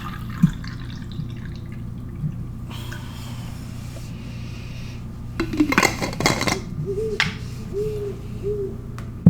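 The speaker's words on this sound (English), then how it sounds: "You can still hear our owl friend." Soft owl hoots drift through a cave chamber in the video game Colossal Cave Reimagined, a few gentle repeated calls amid clinking and dripping ambience.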